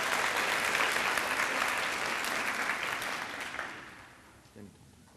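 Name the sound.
audience applause for fifth grade public speakers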